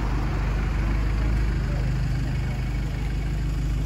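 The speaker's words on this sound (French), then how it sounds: "On est sur un V12 atmosphérique pour ce véhicule." A Lamborghini SV's naturally aspirated V12 idles nearby with a steady low, even hum and faint background hiss, alone without talk.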